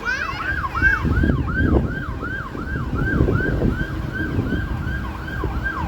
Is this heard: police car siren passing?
yes